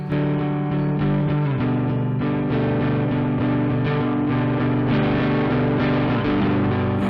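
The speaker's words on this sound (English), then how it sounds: "Good speaker emulation, good sort of speaker distortion emulation." A heavily distorted electric guitar through a Joyo American Sound amp sim pedal plays sustained, buzzy chords with a grungy, harmonically rich amp tone, loud and continuous with no voices.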